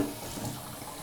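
Fresh water running into a water bottle being refilled, a short steady gush of splashing liquid, close by and moderately loud, with no voices.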